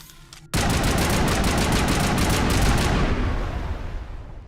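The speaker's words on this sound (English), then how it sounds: "It would be more time effective maybe to use the one occasion where we'll use our assault rifle." Sustained automatic assault rifle fire in the Mass Effect video game, a rapid, even burst of shots that starts abruptly after a moment of quiet and fades out near the end.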